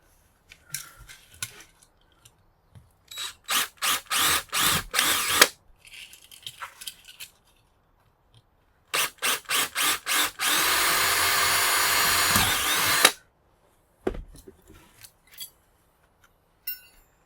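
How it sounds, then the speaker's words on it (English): A power drill bores out rivets on brass light switches in short bursts, then a longer sustained high-pitched whine, with brief mechanical clicks between bursts, close and loud with no talking. "You can either drill out these rivets"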